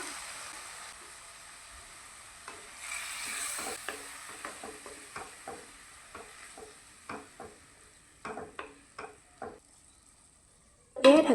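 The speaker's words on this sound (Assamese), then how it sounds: "এই নৰসিংহ আৰু আলুৰ পেষ্টখিনি আকৌ এবাৰ 10 মিনিটমান সময়ৰ কাৰণে ফ্ৰাই কৰি ল'ম" A paste of narasingha leaves and potatoes fries in a pan, a soft continuous sizzle broken by a series of scraping stirs and light clatters of a spatula, close and moderately quiet.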